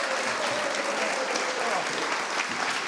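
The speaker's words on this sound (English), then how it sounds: "one last round of applause for Scott Christensen and Quang Ho" An audience at an art talk gives a steady round of applause for painters Scott Christensen and Quang Ho, even and fairly close, lasting about three seconds without a break.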